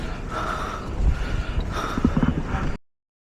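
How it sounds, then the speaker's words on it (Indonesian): A person takes heavy, labored breaths after walking in hot, humid weather in Macau, with a few loud gasping inhales and exhales close up, then the sound cuts to silence. "Ngos-ngosan."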